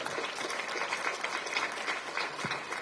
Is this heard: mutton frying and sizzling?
no